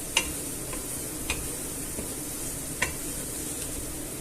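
Clams cooking in a pan as flour is stirred into the marinera sauce, a steady soft sizzle with a few sharp ticks of the utensil against the pan, faint and close, no voices.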